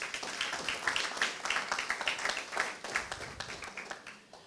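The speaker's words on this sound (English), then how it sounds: "And I would like you to also give GE, please, a round of applause." An audience at a university entrepreneurship competition claps steadily for a few seconds, a dense even patter of many hands.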